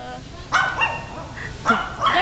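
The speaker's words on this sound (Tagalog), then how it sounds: "Patigilin mo yung mga aso mo. Ingay-ingay." Dogs bark close by in a few sharp, separate bursts, mixed with whimpering yips, while people talk in the background.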